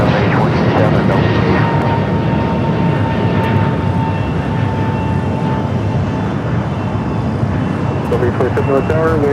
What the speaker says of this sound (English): The flight that just took off, the American flight.